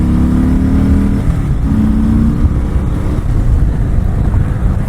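A Harley-Davidson Sport Glide 107 motorcycle engine revs loudly and close, a deep steady rumble that rises in two short bursts before settling to a throbbing idle.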